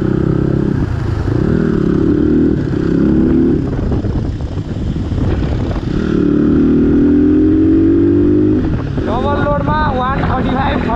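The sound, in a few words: motorcycle riding fast on highway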